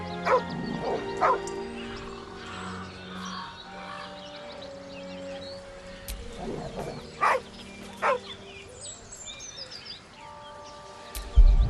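A dog in the fantasy game Baldur's Gate 3 gives several short barks and yips with whimpering between them, spaced out over quiet ambient game sounds with faint bird calls, and no talking.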